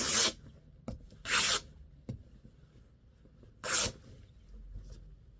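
Loose threads pulled and brushed off dress fabric, three loud rasping rubs with a few soft clicks between them, close by in a quiet room.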